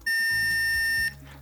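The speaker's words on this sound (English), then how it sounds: "It's a square wave and it sounds like this." A single harsh, buzzy 1.8 kHz square wave tone holds steady for about a second, then cuts off abruptly, leaving low background hum.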